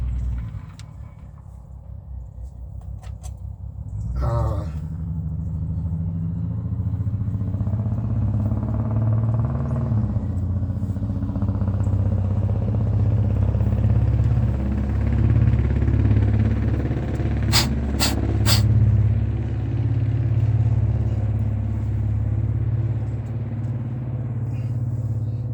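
Big Bertha's car engine idles with a steady low rumble, then rises into sustained revving as the throttle is worked, loud and close throughout.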